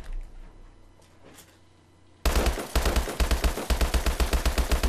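Rapid repeated shots from an HBRa3 rifle on a range in Call of Duty Advanced Warfare, a loud close burst of evenly spaced cracks beginning abruptly after a quiet stretch and continuing steadily.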